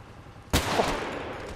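A single sharp gunshot cracks out in a GTA V SWAT police shootout, a sudden loud blast that rings on into a decaying roar of echo and further gunfire-like rumble.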